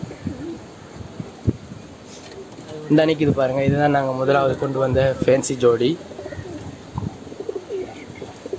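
Pigeons cooing inside a cage holding about fifty birds, a run of rhythmic, warbling coos heard close by, mixed with someone talking over them.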